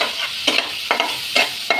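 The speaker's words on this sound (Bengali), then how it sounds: "মশলা কষাই নিচ্ছে" Spices being sautéed in mustard oil for a koi fish and red spinach curry, heard as a steady low sizzle broken by four sharp, regular scraping stirs of a spatula against the pan.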